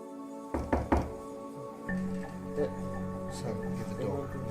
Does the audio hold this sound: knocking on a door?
yes